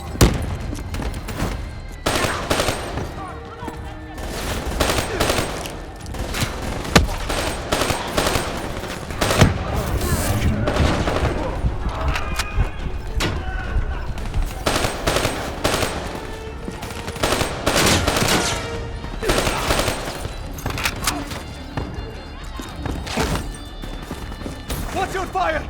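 Rapid bursts of automatic gunfire and single shots crackle throughout a Call of Duty: Black Ops 3 battle in Cairo, dense and loud, with voices shouting between the volleys.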